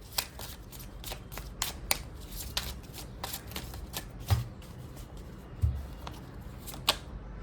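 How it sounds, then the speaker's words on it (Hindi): A deck of tarot cards is shuffled in quick crisp riffles and flicks, a rapid run of sharp papery snaps with a few heavier thumps as cards are drawn and set down, close and without speech. "आज हम ये वाली कार्ड से भी कुछ कार्ड्स निकालेंगे"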